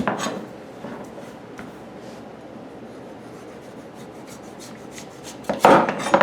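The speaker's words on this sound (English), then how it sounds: "starting with a knife that is able to cut through a root vegetable" A knife works through a raw butternut squash on a cutting board, giving a low steady scraping rub through the hard flesh, ending in a sharper, louder chop and knock against the board.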